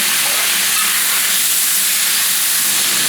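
Soy sauce hits a hot pan of spicy pepper steak and bell peppers, throwing up a loud, steady, close-up sizzling hiss that holds for the whole moment.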